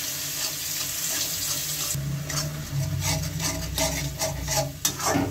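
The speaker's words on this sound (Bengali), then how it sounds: "একটু জল দিয়েছি, কষিয়ে নেব।" Water splashes into a pan of frying spices with turmeric, cumin and red chilli powder, a steady hissing sizzle with clinking stirring that grows busier, close up and with no talk.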